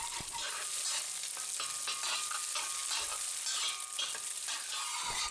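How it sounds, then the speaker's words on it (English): Egg sizzles and fries in a hot Lodge cast iron wok as it is stirred and scrambled, a dense, crackling hiss steady throughout with light scraping strokes, close and without talk. "Once the wok is good and hot, we fry up an egg and quickly scramble it."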